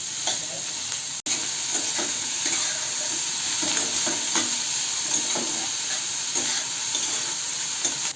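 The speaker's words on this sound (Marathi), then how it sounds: "आता कांदा आपण चांगला परतून घेणार आहे फास्ट गॅसवर" Four large chopped onions sauté in oil over a high gas flame, a close, steady sizzle with recurring stirring scrapes and one brief dropout early on.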